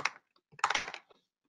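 A course title is typed on a computer keyboard: two quiet, close bursts of quick keystrokes, a short one then a longer run, with a gap between.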